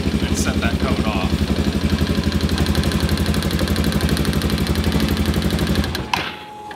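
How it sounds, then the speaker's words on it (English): A car engine idles steadily with a rhythmic mechanical pulse, then abruptly stops after its fuel injector is unplugged, leaving a brief quiet tail. "you'll notice the engine's cut off because it's no longer getting fuel"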